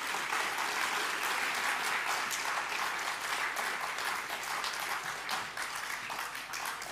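A large audience applauds steadily for Aurélien Barrau and Arthur Keller at a talk on ecology, progress and degrowth, dense sustained clapping filling the room for several seconds with no voices.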